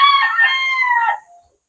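A single rooster crows loudly and close at a backyard gamefowl breeding farm, one call lasting just over a second and then cutting off into silence.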